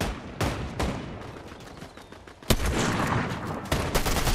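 Gunfire in Fortnite Chapter 5 Season 2: loud, sharp shots crack out at irregular intervals, one especially heavy blast in the middle, over continuous background rattle and with no talking.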